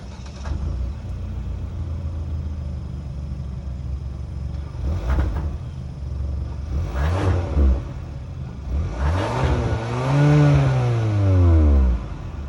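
A 2021 Hyundai Sonata Limited's 1.6-liter turbocharged engine cranks and starts, then revs several times in rising and falling sweeps before settling into a steady idle, close by.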